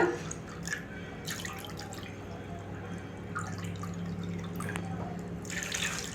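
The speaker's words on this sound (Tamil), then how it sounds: "ரெண்டு கப்பு போல் தண்ணி ஊற்றிக்குங்க" Water, about two cups, runs and trickles steadily into a vessel for making paal kozhukattai, with a few brief splashy bursts over a constant low background hum.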